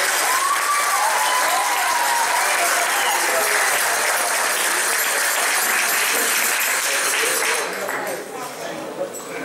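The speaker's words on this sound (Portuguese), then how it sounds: "uma grande salva de palmas" At a Portuguese Casa do Povo community celebration, a crowd applauds the flag bearer with a loud, sustained wash of clapping that fades near the end. Voices are faintly audible underneath.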